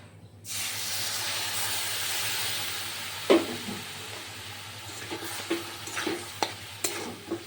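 Roasted food stirred in a pan over steady hissing heat, the sizzle carrying a run of spoon scrapes and knocks in an uneven rhythm, close and clear with no talking.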